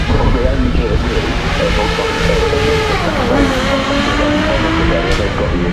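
A race car launches off the start line at the Goodwood Festival of Speed hill climb, its engine roaring loud and close as the pitch rises and shifts through acceleration, with an announcer talking over it.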